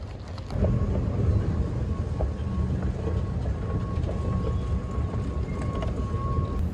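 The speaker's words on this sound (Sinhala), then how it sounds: "ඒකත් টොප් අප් කරගෙන අපි දැන් යමු මෙට්‍රෝ එකේ නැගලා" Dubai Metro train heard on board: a steady, fairly loud rumble of the moving carriage with a faint thin whine above it, continuous for several seconds.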